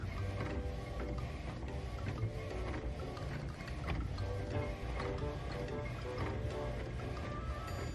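An inkjet printer prints cards, a dense continuous mechanical whir with clicking and shuttling of the print head, steady and fairly loud close by, with no voices.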